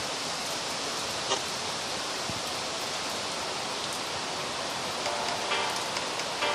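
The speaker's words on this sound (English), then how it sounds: "It's a rainy day here in Jamaica." Rain falls steadily on a rainy day in Jamaica, a constant even hiss with occasional faint drips or taps and no voices.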